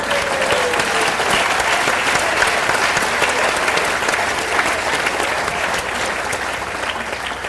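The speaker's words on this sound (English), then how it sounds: "a round of applause for all of our inductees tonight" Sustained applause from a large audience at a polo hall of fame induction ceremony honoring inductees, a dense, steady roar of many hands clapping close and loud, with no speech over it.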